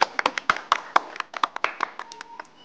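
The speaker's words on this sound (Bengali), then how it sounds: "আরো একটা বড় বড় হাততালি।" A small group gives a big round of clapping, about fifteen crisp claps landing close together near the microphone. The pace slows and the claps thin out toward the end.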